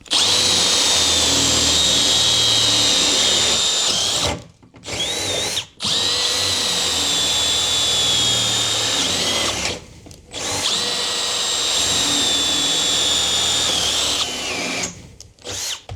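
Milwaukee M12 and M18 cordless drills drilling, three long loud whining runs of high-pitched motor and bit noise, each ending in a brief pause.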